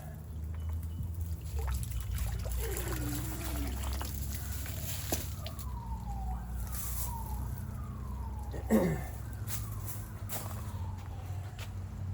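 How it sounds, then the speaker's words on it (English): Water drains out of a koi pond filter as it is lifted out during autumn pond preparation, a faint steady trickle and dribble outdoors, with distant sirens wailing in the background and a brief knock near the end. "So let's get the filter out of here. And let that drain out."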